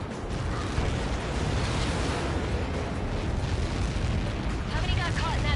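Massive explosion in an aircraft combat video game, a dense sustained roar of rumbling blast noise filling the whole stretch, loud and continuous.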